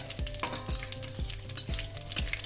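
Bay leaf, halved dried chillies, whole cumin and fenugreek seeds crackle softly in hot oil as a tempering, with a regular rhythm of light spatula scrapes roughly twice a second.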